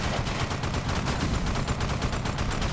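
AK rifle fire in the video game Gunz 2: The Second Duel, a dense, loud, continuous stream of rapid shots close up, alone for under three seconds.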